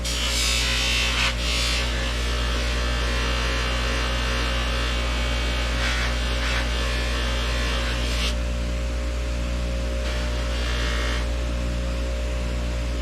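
Polishing a Solingen hunting knife blade on a steady powered wheel, with a constant low machine hum and bright rubbing hiss that swells in several bursts as the steel is pressed against it.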